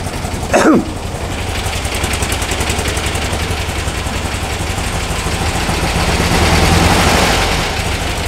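A 1964 VW Beetle air-cooled engine cranks briefly, catches and settles into a steady, loud idle with a low, even rumble and vibration throughout, revving slightly near the end, close by with no talking.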